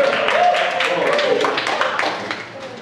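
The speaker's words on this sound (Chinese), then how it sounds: "弟兄跟弟兄拍掌加油一下" A church congregation claps together at a Sunday service, a dense, steady patter of many hands filling the room and easing off slightly toward the end, with voices mixed in underneath.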